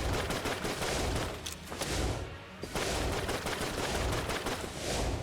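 Gunfire fills a frantic Enter the Gungeon boss fight, a dense, loud, near-continuous stream of rapid shots with one brief lull midway before the barrage resumes.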